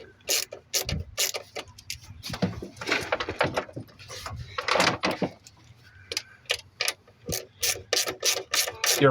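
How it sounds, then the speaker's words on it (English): A hand ratchet clicking on a 1995 Ford F150 with the 4.9L engine, close and crisp, working in quick runs of clicks with short pauses, then a steady rhythmic series at the end. "Your ratchet will be your best friend on these instead of a screwdriver."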